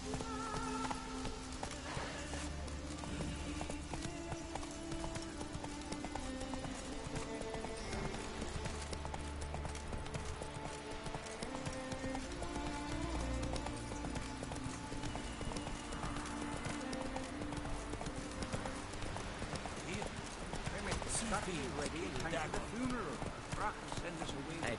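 Roach the horse trots in The Witcher 3, with steady rhythmic hoofbeats running the whole time under dense game music and ambience while someone talks over it.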